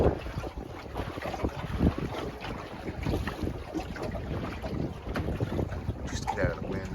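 Wind buffets a small Scamp sailboat at sea, a steady rough rush with gusty bursts throughout, close to the microphone and fairly loud.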